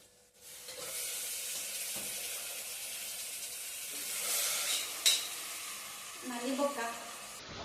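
Mutton curry with tomato frying in a pan, a steady close sizzle under stirring and scraping, growing briefly louder with a sharp clatter near the middle and a burst of hissing toward the end.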